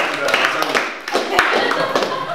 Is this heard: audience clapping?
yes